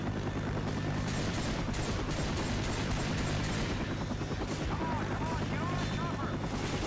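In the zombie shooter Left 4 Dead, a helicopter's rotor thrums continuously while bursts of gunfire crackle over it, with overlapping shouting voices throughout.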